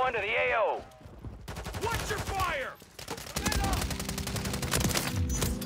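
Rapid automatic fire from the Bas B weapon in Call of Duty MW3 Warzone: loud, dense, sustained rattling bursts with short gaps, mixed with game effects and a voice speaking over it.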